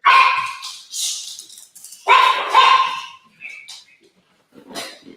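A dog barks in a few loud, close bursts separated by short pauses, with some whining yips between them.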